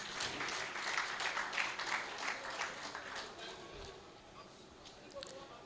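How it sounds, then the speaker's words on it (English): An audience at a tax reforms workshop gives steady applause, a dense patter of clapping that gradually thins and fades toward the end. "Please, a round of applause for yourselves"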